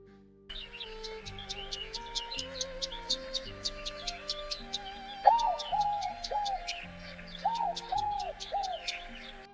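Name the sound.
AI-generated looping bird sound effect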